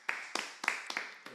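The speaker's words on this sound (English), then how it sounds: "let's go ahead and clap for our first guest on the podcast" A handful of sharp, close hand claps, five or six in an uneven rhythm, welcome the first guest on a podcast, with no one speaking over them.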